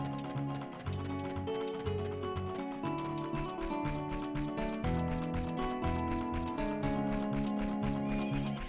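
Horse sounds from Zelda: Ocarina of Time play over the game's music, with rhythmic hoofbeats and a neigh set against steady melodic tones for several seconds.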